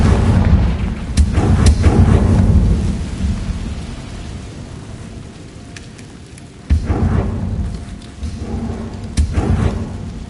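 Booming, thunder-like Confringo fire-spell explosions from the Hogwarts Legacy video game, with several loud rumbling blasts early, a quieter stretch, then fresh detonations near the end, layered over a steady crackling background.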